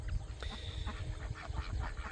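Ducks quack in a run of rough, nasal calls near their nesting spot in Tasman, New Zealand, close by over a low outdoor rumble. No one speaks.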